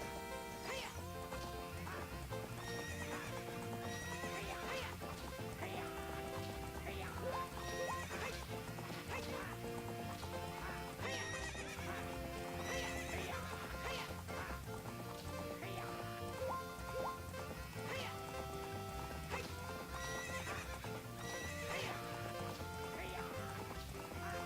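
Horse galloping in a race in Zelda: Ocarina of Time, quick hoofbeats and neighs set against dense, steady game music across the whole stretch.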